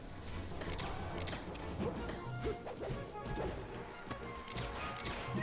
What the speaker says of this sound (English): gotta be careful with these F smashes